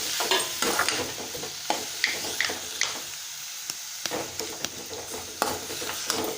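Chopped tomatoes stirred and sautéed in a pan for a tomato kurma, with a steady close sizzle broken by repeated scraping clinks of a spoon against the pan, no talking.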